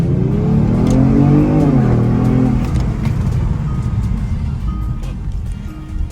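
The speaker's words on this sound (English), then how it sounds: "So if I switch it over into sport mode, you can hear a little bit more of the exhaust." Kia Stinger GT in sport mode accelerating from a stop to about 40 mph, the exhaust note loud and rising through a gear change, then settling into a quieter cruising hum with road noise.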